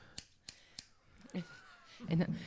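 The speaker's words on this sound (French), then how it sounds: "Des ciseaux?" Scissors give three crisp, evenly spaced snips for ASMR, followed by soft talking nearby.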